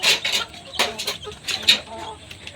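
Several crested hill chickens clucking close by in short, irregular bursts, with a few sharper higher calls mixed in.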